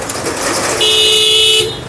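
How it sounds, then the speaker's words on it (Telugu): A 2016 Honda Amaze S sounds a loud, steady car horn in one sustained honk of about a second, standing out over low background noise. "హారన్ మారో ఎక్బార్"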